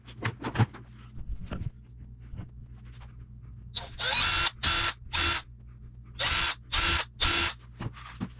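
Power drill driving screws into wood while building a custom jewelry storage wall: six bursts of whirring, each about half a second, in two groups of three, close and loud after some earlier light handling knocks.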